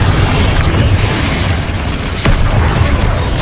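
A fiery blast spell in the Hogwarts Legacy video game, a loud, dense, continuous roaring rumble with a brief sharp crack partway through, close and filling.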